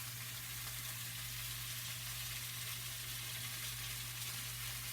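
Steaks sizzle in a hot pan, a steady, fairly faint hiss and crackle that keeps going evenly, with a low background hum and no voices.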